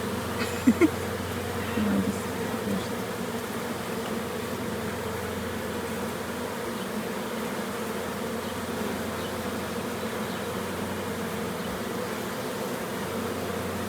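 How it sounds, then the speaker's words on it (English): Honey bees swarming over a beehive frame in a Canadian apiary, a dense, continuous buzzing drone held at steady loudness throughout, with a few faint knocks early on. "Look at you go pushing those bees away."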